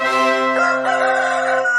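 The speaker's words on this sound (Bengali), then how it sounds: "মুরগি? হ্যাঁ মুরগি।" A rooster crows once in a loud, close, sustained cock-a-doodle-doo, the strained harmonic call rising and holding to the end with no talking over it.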